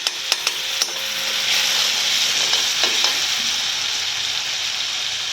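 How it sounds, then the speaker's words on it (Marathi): Chilli-garlic paste sizzles in hot oil for a tempering while making horse gram shengole, a steady bright hiss with a few sharp spoon taps on the pan at the start. "ती आता आपल्याला ह्या फोडणीमध्ये टाकायची आहे आणि त्या तेलामध्ये छान परतवून घ्यायची"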